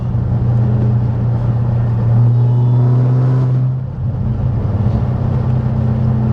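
A manual Dodge Hellcat pulls hard under acceleration, its loud, close engine rumble climbing in pitch with a rising supercharger whine on top, then easing briefly as a shift comes before the drone resumes.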